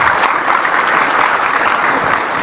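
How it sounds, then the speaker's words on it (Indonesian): A crowd applauds steadily during a political speech in Indonesia, a dense, even wash of clapping with no break. "Jangan cepat tepuk tangan."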